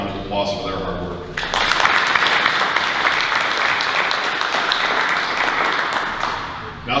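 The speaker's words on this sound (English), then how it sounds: "I think definitely deserve a round of applause for their hard work" Applause breaks out at a school district's State of the District address, starting after a short stretch of talk and continuing as a full, even round of clapping from the audience before tapering.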